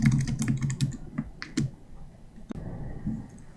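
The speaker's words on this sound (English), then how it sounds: "I already typed in all of the syntax needed to make this a Python dictionary" Python code being typed on a computer keyboard gives rapid, close clusters of key clicks, dense at first, then sparser taps and a louder single keystroke.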